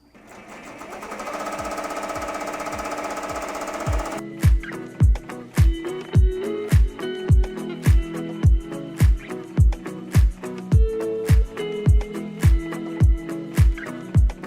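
Embroidery machine stitching a vinyl appliqué design, spinning up with a steady whir before settling into a loud, regular rhythmic thumping of the needle strokes, close and alone.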